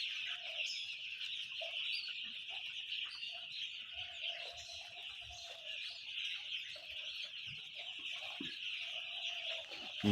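A crowd of four-day-old Nourish chicks chirps continuously, a dense, high-pitched peeping chorus that stays steady and close throughout, with no voices.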